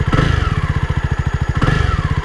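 A Jawa Forty-Two or Royal Enfield Hunter 350 motorcycle engine starts and chugs in a fast, steady rhythm, idling loudly and close, with a brief rise in revs partway through.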